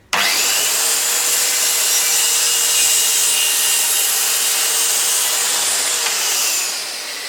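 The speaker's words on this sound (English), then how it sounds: "I've never used a circular saw on a 45-degree angle before" A Dewalt DWE576K circular saw makes a continuous, loud, close high-pitched whine while cutting wood at a bevel angle, starting abruptly and tapering slightly as the cut ends, with no talking.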